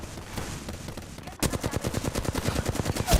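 Rapid automatic gunfire in the video game Apex Legends: a sudden sharp burst kicks in partway, then a fast, even string of loud close shots with a heavier blast near the end.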